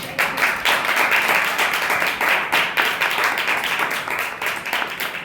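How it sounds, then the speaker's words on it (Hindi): A church congregation claps together in a brisk, steady rhythm during a sermon, loud and sustained for several seconds, sounding like a room full of people. "ताली बजा के प्रभु के नाम में"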